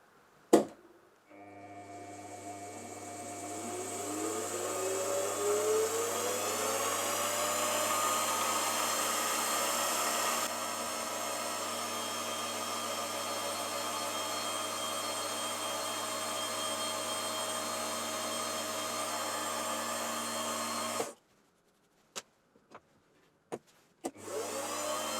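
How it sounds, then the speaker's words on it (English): A 3mm slot drill plunge cutting a groove in metal on a machine tool: a steady high whine with harmonic tones that runs for about twenty seconds, then stops, followed by a few brief clicks. "I'm just going to use this 3mm slot drill just to cut the groove, and I'm going to plunge cut"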